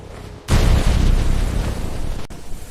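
A loud, sudden boom of torpedo explosions in a LEGO video game erupts into a sustained roaring rumble that holds for about two seconds before cutting off abruptly.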